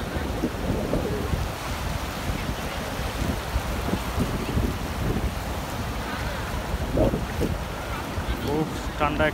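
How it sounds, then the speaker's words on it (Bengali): Sea waves roaring onto Inani beach at Cox's Bazar, a dense, constant rumbling surf with wind, loud and close throughout. "সাগরের সেই গর্জন।"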